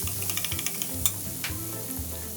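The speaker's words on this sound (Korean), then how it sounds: "이럴 때는 어쩔 수 없이 식용유의 힘을 빌려야죠. 보시면 자글자글." Meat sizzling as it fries in cooking oil in a pan, a loud continuous crackling hiss with a low rhythmic thudding and light scraping of stirring underneath; no one speaks.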